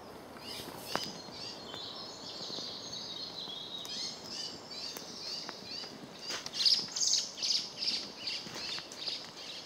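Small woodland birds chirp and call at a wild camp as a sparrowhawk swoops down and takes one, a burst of sharp, fairly close calls standing out over a steady hiss of background ambience.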